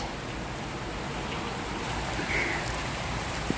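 Steady rain falls across a shady garden with potted aloe and flowering plants, a dense even hiss of drops on leaves and surfaces that holds at a constant level, with one small sharp drip near the end.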